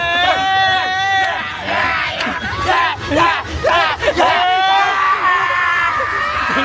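Crowd cheering and shouting at an Ekvira Aai palkhi procession, a loud close mass of overlapping yells, whoops and rising cries with voices mixed throughout.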